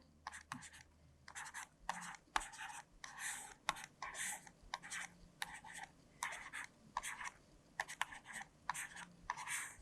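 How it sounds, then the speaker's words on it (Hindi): A matrix being written by hand on paper during a maths lesson, with soft, close pen scratches arriving in short rhythmic strokes and pauses, faint and quiet, with no speech over them. "पहले मैं ये वाली मैट्रिक्स लिख रही हूँ"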